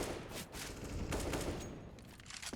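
Gunfire in a Counter-Strike match between Big and Entropiq, coming as rapid overlapping bursts of shots at a fairly steady level over a few seconds.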